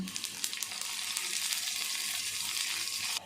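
Mustard seeds, cumin, urad dal and a dried red chili sizzle in hot oil in a pan for a South Indian spinach dish, giving a bright, crackling, continuous fry with small pops near the start before it cuts off abruptly.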